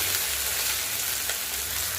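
Nutmeg powder dropped into hot oil in a home kitchen pan gives a steady, close sizzle and crackle that runs continuously without any talking.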